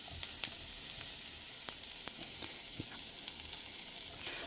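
Burrito filling of eggs and carrots sizzling as it heats through in a pan, a steady soft frying hiss with scattered small pops and crackles throughout, no talking.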